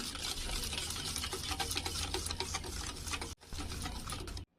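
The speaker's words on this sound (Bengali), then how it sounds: "খেজুরের গুড় ঢেলে দিয়েছি এবার এটা আমি ভালো করে ফেটে নেবো" Cake batter sweetened with date palm jaggery is whisked briskly in a bowl, giving a steady rapid ticking and tapping. The close, quiet rhythm runs unbroken, pauses for a moment, then resumes briefly.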